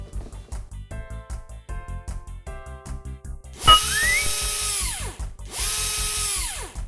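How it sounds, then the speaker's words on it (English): Power drill working on a toy garbage truck for kids, short rising whirs first, then two longer loud high-pitched spins that wind down at the end of each burst, with no talking over them. "For this, I need my drill."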